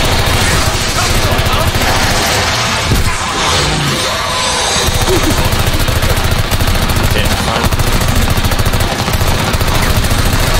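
Rapid automatic gunfire in the Call of Duty game, dense loud bursts of shots hammering almost nonstop with brief crashes, with players talking over it.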